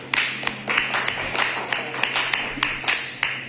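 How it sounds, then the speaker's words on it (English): An audience claps at a community review board meeting for a boys' team that won third place at the World Series. Roughly a dozen scattered, uneven claps ring out over a steady room hum. "All right, they need a clap."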